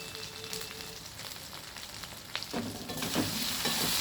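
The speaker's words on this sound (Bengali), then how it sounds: "দিয়ে ভালো করে আমি কষিয়ে নেব" Spices with chili powder sautéed in hot oil for a Bengali tengra fish curry, a continuous close sizzle that swells louder toward the end, with light stirring.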